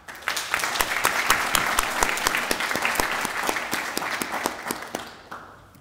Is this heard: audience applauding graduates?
yes